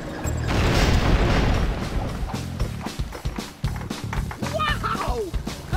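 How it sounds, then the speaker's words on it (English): A loud, rumbling explosion bursts out in the Lego City Undercover video game and fades within a couple of seconds, followed by clattering game sounds and music. "That explosion was awesome!"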